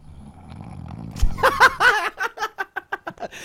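A person imitates snoring with the voice, with a few drawn-out snorts followed by a quicker run of short rhythmic snorting bursts, close to the microphone.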